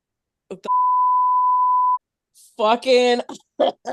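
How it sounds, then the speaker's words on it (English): A steady censor beep tone holds for about a second and a half, loud and clean, between stretches of someone talking in a podcast conversation. "I'll beep out the name, but the names of things"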